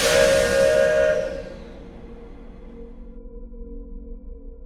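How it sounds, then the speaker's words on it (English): A steam train whistle blows loud and long for about a second, then cuts off, leaving a low rumbling hiss of steam and engine in the background. "he heard the train outside his house."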